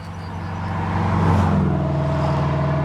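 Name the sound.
cars passing by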